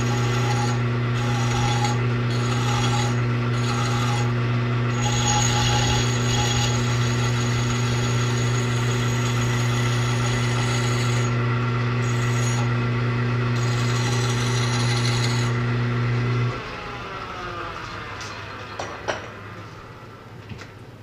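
A hand file rasps in steady repeated strokes across the rough edges of a metal washing machine bearing tool, loud and close over a strong machine hum that stops partway through. No one speaks.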